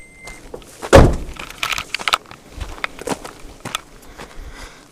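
Someone climbing out of a Toyota FJ Cruiser on a forest road, with a heavy car door thunk followed by rustling, shuffling footsteps and smaller knocks, close to the microphone, with no talk.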